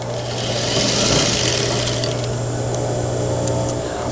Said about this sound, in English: I am going to continue straight up, and I'm going to back stitch at the top.